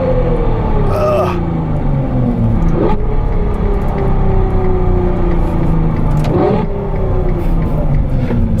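A Ferrari 812 N V12 of over 800 HP revs loudly and close by, its pitch sweeping up and down in repeated rising and falling bursts over a steady deep rumble.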